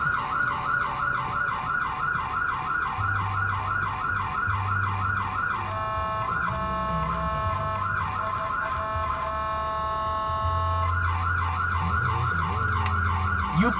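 Wailing emergency siren sounds continuously and loudly during a police pursuit in Arundel, cycling through a fast yelp pattern with a steadier tone in the middle, alongside a low engine drone.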